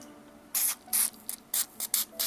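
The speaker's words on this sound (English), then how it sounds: "I like to give a little squirt with Balisol." Balisol oil is sprayed from an aerosol can onto a steel Petrified Fish 818 knife in about seven short, close hissing bursts of uneven length.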